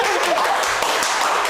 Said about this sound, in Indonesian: Please tepuk tangan.